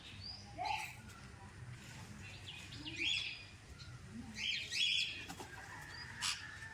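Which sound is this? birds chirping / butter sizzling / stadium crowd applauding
birds chirping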